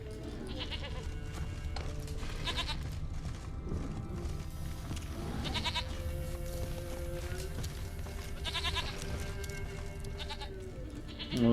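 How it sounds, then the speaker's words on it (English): Goat bleats ring out a few times over a busy soundscape from the video game The Witcher 3: Wild Hunt, with steady clip-clopping hooves and ambient music. "Well, I hear a goat."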